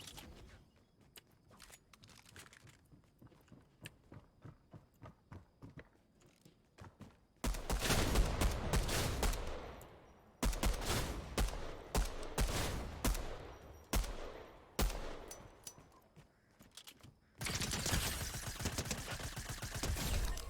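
Fortnite gunfire ending in a headshot: quiet sporadic clicks and footsteps, then loud sustained automatic bursts in several blocks separated by brief pauses, close and heavy.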